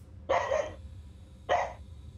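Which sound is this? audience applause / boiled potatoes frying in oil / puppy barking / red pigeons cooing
puppy barking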